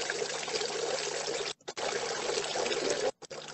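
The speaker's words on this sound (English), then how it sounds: "I draw participants' attention to the action of pouring water from a distance" Water poured from a height in a continuous, fairly loud splashing stream, broken by two brief pauses where the flow stops, with no talking.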